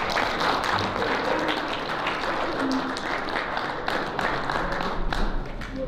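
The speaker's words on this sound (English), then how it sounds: "So give them a round of applause as well." Attendees at a young men's leadership conference clap together in a loud, continuous round of applause, with occasional heavier thumps mixed into the steady patter of many hands.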